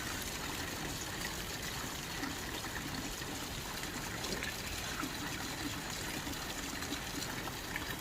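Clean, cold fresh water flows down from higher ground into a collecting pool along a mountain trek, a steady close rushing and trickling wash that stays even throughout, with no voices.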